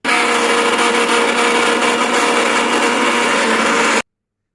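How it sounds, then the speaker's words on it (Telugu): Loud, continuous grinding whir of a mixer grinder grinding soaked black-eyed beans for about four seconds, then cutting off abruptly into silence. "ఇప్పుడు దీన్ని కాస్త మెత్తగా మిక్సీ వేసుకుందాం"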